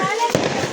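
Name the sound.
Diwali firecracker bomb exploding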